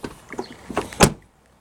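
Door of a worn 2003 Ford Escape swinging shut with a few light rattles, then one solid close thump near the end before silence.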